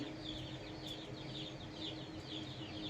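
A live rooster of about 3 kg, one of five being shown for sale, gives faint clucks and stirrings against steady outdoor background noise, with no talking over it.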